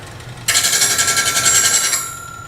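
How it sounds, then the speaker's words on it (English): A bench grinder sharpening a skew chisel switches on abruptly, whines loud and high with a pulsing grind for about a second and a half, then cuts off and spins down. "I'm going to turn the grinder on for just a second"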